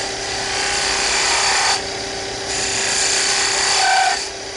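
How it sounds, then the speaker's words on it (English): Sandpaper rubs steadily against a spinning wooden muddler on a lathe, giving a close, continuous whooshing scrape over the motor's steady hum, swelling slightly as pressure changes. "we're going to sand that out as well"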